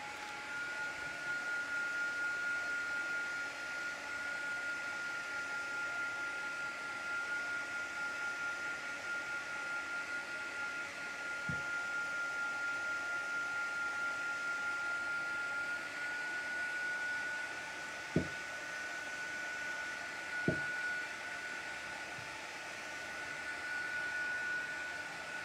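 A heat tool blows a steady, loud whooshing stream of hot air while drying crackle paste on the top of a vase, with a couple of faint knocks partway through and no talking.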